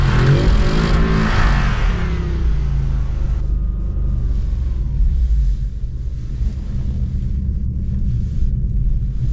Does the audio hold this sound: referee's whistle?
no